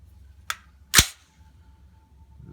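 Two sharp gunshots from a PSA M4 rifle on a lead sled, fired outdoors in the cold. The first crack is lighter and the second is louder and closer, each followed by a short decay.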